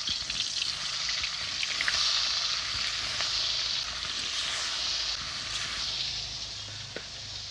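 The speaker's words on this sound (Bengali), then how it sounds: "তেল গরম হয়ে গেছে, মাছগুলো ভেজে নেব।" Pieces of rohu fish fry in hot oil in a kadai, giving a continuous bright sizzle with small crackles and pops. The sound is close and steady, with no talking.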